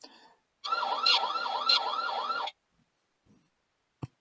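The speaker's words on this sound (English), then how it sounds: "There's the alarm." An outdoor 4G cellular security camera's electronic alarm siren wails in a fast warbling pattern for about two seconds, then cuts off, followed by a few faint clicks and a short tap.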